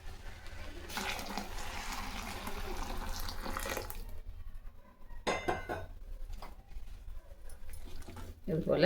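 Hot water poured into a pan while cooking tomato kitchadi, a broad splashing pour running for several seconds, then softer stirring and clinking kitchen sounds near the mic.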